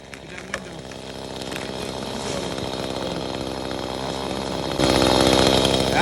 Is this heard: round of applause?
no